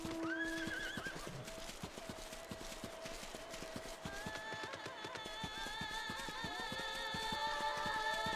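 Horses neighing and hooves clip-clopping in the Final Fantasy XIV Heavensward video game, a steady run of hoofbeats with repeated whinnies, moderately loud over game music.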